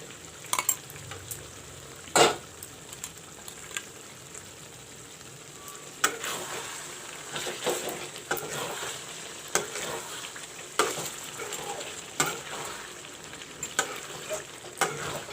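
Chicken sizzles steadily in a pan while being stirred with black pepper, cumin and spice powder, with scraping strokes and occasional louder clatters standing out over the continuous frying hiss.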